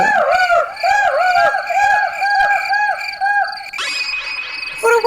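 In a Bengali cartoon story, a voice imitates a chicken with loud, close, rhythmic clucking calls that repeat several times, then rises into a higher squawk near the end.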